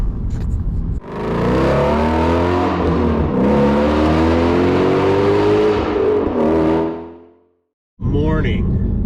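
A BMW E90 M3 engine revs loud and close, holding a strong rising and falling note for several seconds before cutting off, then a brief revving burst returns at the end.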